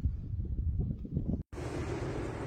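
Wind blows outdoors in the sunny high desert of northwestern New Mexico, a steady rumbling gust buffeting close to the microphone that cuts out briefly and then returns as broader, hissier noise.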